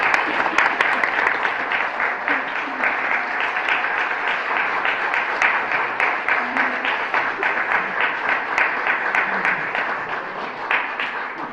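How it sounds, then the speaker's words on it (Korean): Sustained, loud audience applause after a Christmas cantata performance at a church, a thick, even roar of many hands clapping that carries steadily for over ten seconds. "다 알아보고 박수하신 거죠?"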